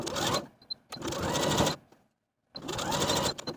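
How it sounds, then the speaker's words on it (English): A sewing machine stitches across a vest's bottom seam allowance in three rapid whirring bursts, with brief pauses between runs, close and steady. "Now I'm going to take it to my sewing machine and sew straight across that bottom seam allowance"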